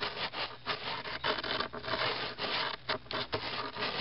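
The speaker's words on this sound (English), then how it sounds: "The advantage of using the round file as opposed to a flat file is I just find it gets to that edge a lot quicker" A round file rasps along the edge of skateboard grip tape in quick, continuous back-and-forth strokes, close and steady, with short gaps between passes and no voices.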